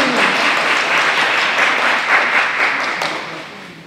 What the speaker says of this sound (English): A big applause for these six students remaining.